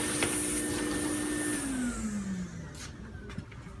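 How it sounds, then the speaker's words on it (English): A vacuum cleaner sucks debris out of freshly routed bench-dog holes in a wooden workbench top, a loud close whine that drops in pitch as the nozzle seals and shifts, with small rattles of chips. "you want to suck them out good with a vacuum"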